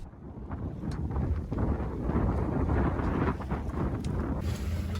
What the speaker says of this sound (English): the wind picked up and we were able to unfurl the jib for a nice sail into the anchorage